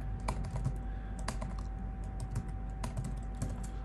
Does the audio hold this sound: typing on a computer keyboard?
yes